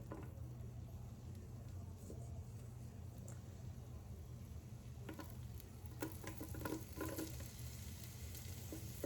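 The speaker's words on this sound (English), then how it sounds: "Listen to that sizzle." Vegetables sauté in bacon fat with a steady, close frying sizzle and crackling pops, continuous throughout, with a few sharper spatters and stirring clatters toward the end.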